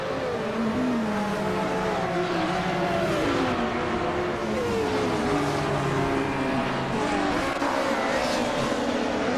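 The engine of a 1982 Ford C100 race car in a racing video game drones loudly and continuously, its pitch rising and falling through the gears with other cars close by.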